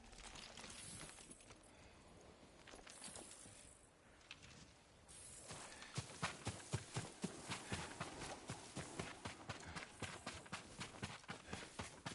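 Hoofbeats of Yuriko's horse in Ghost of Tsushima, a soft shuffle at first, then a steady run of loud, evenly spaced clip-clops in the second half, close by and with no one speaking.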